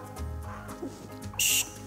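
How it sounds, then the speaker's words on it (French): A short, thin whistle that breaks off abruptly, a brief high-pitched squeak over quiet room sound, coming out weak rather than as a full tone. "Échec de sifflet."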